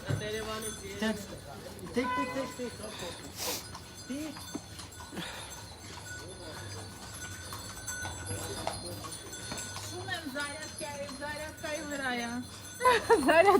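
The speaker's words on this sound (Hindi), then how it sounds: "ये है आर्मेनियन घोड़े" Armenian horses clip-clop along a cleared lane at a song-shoot location, their hooves a steady, modest rhythm of clops under frequent speech and a background song with a sharp burst near the end.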